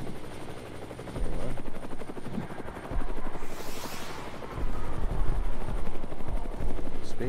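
An aircraft, apparently a helicopter, passing overhead in the VR shooter War Dust, a loud continuous rotor-like thrum that swells midway, with gunfire and battle noise mixed underneath.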